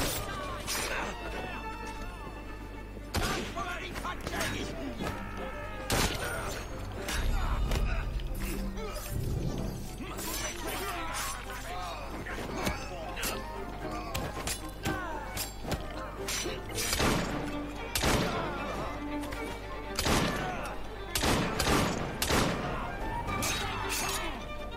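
Gunfire during combat in Assassin's Creed Syndicate: sharp shots ring out repeatedly and irregularly through the stretch, mixed with impacts and other game sounds over a steady low background.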